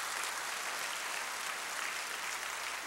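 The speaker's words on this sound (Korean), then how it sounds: "우리 하나님께 감사의 박수를 올려드리십시다." Church congregation applauding after a Korean sermon, a steady dense wash of many hands clapping together, even and sustained throughout with no voices standing out.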